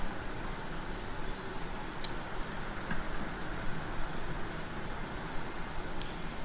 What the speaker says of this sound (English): that's what you're hearing is the rain hitting the roof.